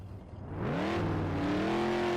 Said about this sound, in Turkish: Arabanın sesi aşırı yüksek.